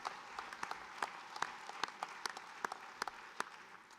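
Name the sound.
applause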